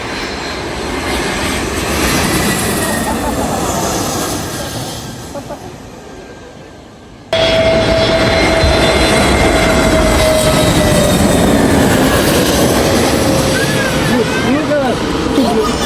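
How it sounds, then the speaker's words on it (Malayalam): A low-flying airplane passes overhead on approach to land near Cochin airport, a loud broad engine roar that fades, cuts, then returns steady and strong with a rising tone. "ചെറിയൊരു ഗ്യാപ്പ് ഇട്ട് ഫ്ലൈറ്റ് ലാൻഡ് ചെയ്യുന്നുണ്ടായിരുന്നു."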